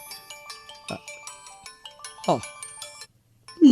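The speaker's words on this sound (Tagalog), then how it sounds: "Itay pa'y ngagriring ti cellphone" A mobile phone ringtone plays in a room as a repeating, bright melodic tone pattern, with voices talking over it in short bursts.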